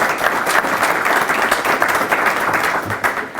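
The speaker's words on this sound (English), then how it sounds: "Let's have a round of applause for our." Meeting audience giving a round of applause at the close of a talk on buying a business, a full, steady burst of many hands clapping, fairly loud and continuous.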